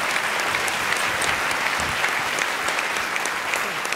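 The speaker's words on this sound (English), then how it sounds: "Deserve a nice round of applause, I think." A studio audience at a music performance bursts into sustained applause, dense and steady clapping from many hands that sounds fairly close and lasts the whole moment.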